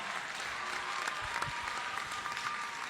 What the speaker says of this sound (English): Let's give His Excellency a resounding round of applause.